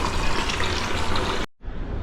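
Water scooped and poured from a home fish tank, a loud close splashing gush that stops abruptly, then a shorter burst of running water.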